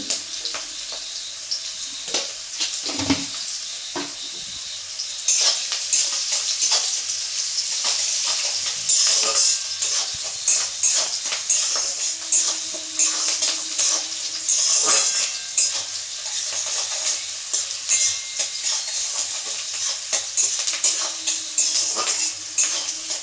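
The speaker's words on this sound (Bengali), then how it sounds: "একটু ভালো করে ভেজে নেব।" Frying and stirring in a pan while cooking ghugni, with a steady sizzle broken by repeated sharp scrapes and clinks of a utensil against the pan, heard close with no voices.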